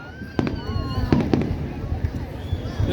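Fourth of July fireworks over Annapolis burst in several sharp pops and crackles, with whistling trails and a distant rumble, as people talk nearby.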